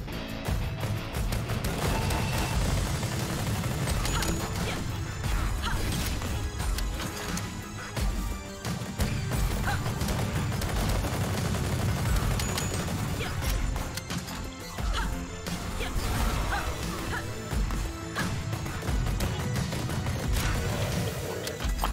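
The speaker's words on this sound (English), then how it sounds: "every time I shoot this weapon, then it shoots what would normally be its normal bullet" Weapons fire nonstop in the rhythm shooter game BPM: Bullets Per Minute, a dense, loud barrage of blasts and crashes that runs without a break over a heavy backing track.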